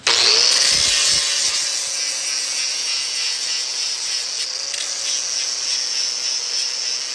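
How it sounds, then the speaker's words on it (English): A power sander grinds down a weld on a rear axle housing bracket, a loud continuous high-pitched whine that starts abruptly and holds steady with slight pitch shifts, close up and without talk. "Then I just welded it up, and I'll sand it off with this sander right here."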